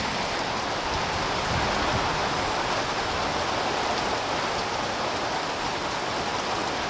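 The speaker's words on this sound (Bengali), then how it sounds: "এখানে তো মুষলধারে বৃষ্টি হইতেছে, মানে আগরতলাতে বৃষ্টি শুরু হয়ে গেছে" Heavy rain pours down steadily in Agartala, a dense, even hiss that holds constant without breaks.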